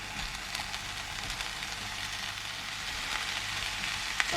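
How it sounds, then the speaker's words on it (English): Ground meat browning in a pan for Italian stuffed peppers gives a steady, even sizzle and crackle close to the mic, with no talking. "our meat is frying"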